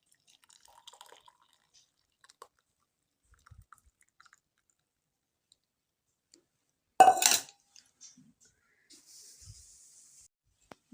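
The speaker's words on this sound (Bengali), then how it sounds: "ছেঁকে নিই চাটা" A brief burst of pouring tea splashes into a glass as it is strained, then a few soft drips and clinks in an otherwise quiet room.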